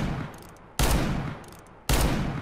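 Gunfire in Counter-Strike: Global Offensive, two loud, sharp bursts about a second apart, each hitting abruptly and then tailing off, close and with no talk over them.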